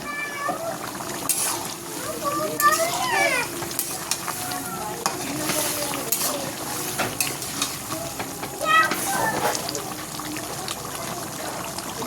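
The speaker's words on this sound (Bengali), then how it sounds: "মাংস টকবক করে ফোটার সময় যা বেরোয় গাইজ" Marinated meat bubbles and sizzles in a cooking pot with a continuous wet crackle, while a cat meows nearby a few times.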